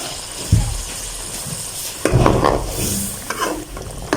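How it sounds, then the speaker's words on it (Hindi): Water poured into a simmering green chana and chicken gravy, with bursts of sizzling and bubbling as it hits the hot pan, along with a few clanks of a spoon stirring. "अभी हम पानी डाल देते हैं"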